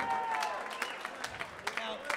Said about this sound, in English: So big round of applause for Matt, everybody.